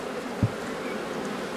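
Honey bees hum in a dense, steady drone at an open hive during a frame inspection, with a single soft thump early on.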